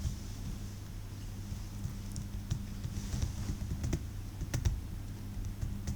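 Keys tapped on a computer keyboard while entering an Excel chart title, soft irregular clicks over a low hum, quiet and close.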